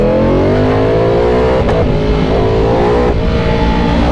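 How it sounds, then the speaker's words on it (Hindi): A Ducati V4 motorcycle engine gives a loud, steady roar with rising harmonics, revving continuously at close range with brief sharp blips, no talking. "ये V4 की आवाज़।"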